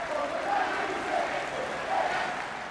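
A large crowd of thousands, including Liverpool and Everton supporters, applauds and cheers at a public gathering in Liverpool, a sustained roar of clapping with voices mixed in.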